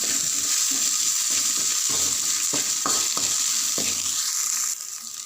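Grated coconut with salt stirred in a pan after a tempering, loud continuous sizzle broken by several scraping spoon strokes, then easing slightly at the end; no voices.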